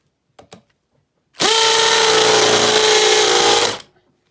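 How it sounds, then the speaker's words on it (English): A Makita XPH07 brushless hammer drill bores with a spade bit in a single loud, steady whining burst of a little over two seconds, close up, with faint clicks beforehand and quiet afterward. "Now we'll switch it over to the brushless."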